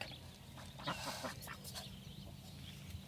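Ducks and chickens on a farm at Kahikatea Farm in Poukawa, a few short quacking calls midway over a quiet outdoor background, faint and somewhat distant.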